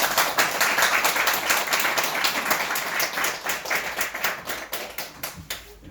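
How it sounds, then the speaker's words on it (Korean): A church congregation claps in welcome during a Korean service, a steady, lively burst of many hands close by, staying strong throughout and tapering slightly toward the end. "우리 박수로 한번 환영하겠습니다."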